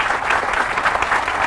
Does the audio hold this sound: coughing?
no